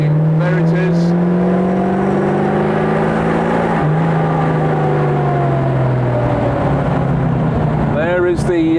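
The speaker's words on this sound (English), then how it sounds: "There is the supercharger boosting." A supercharged vintage Blower Bentley engine roars up close at full throttle, its loud droning note sliding down in pitch before a sharp rev flares near the end.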